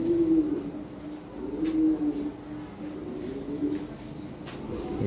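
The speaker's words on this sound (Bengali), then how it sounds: "এখানে এক পেয়ার কবুতর আছে ভাই" A breeding pair of large, high-quality pigeons coos in low, repeated phrases close to the listener, the soft throaty calls rising and falling steadily throughout against faint background noise.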